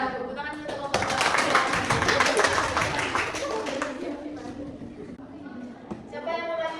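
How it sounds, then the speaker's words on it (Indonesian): A classroom of students claps for group 2 during a mathematics lesson. The dense burst of applause lasts about three seconds, then fades into murmuring voices and a few stray claps. "Tepuk tangan dulu untuk kelompok 2."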